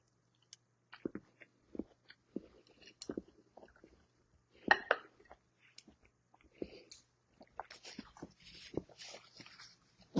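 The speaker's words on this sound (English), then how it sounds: "Oh man, can you hear me chewing on the mic?" Close-miked chewing on a candied spiced orange slice, irregular wet crunchy bites and mouth sounds spread across the clip, with quiet gaps between them.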